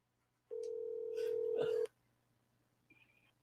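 A steady telephone tone sounds for just over a second before voicemail picks up, then cuts off, followed by a brief faint higher beep; no speech is heard.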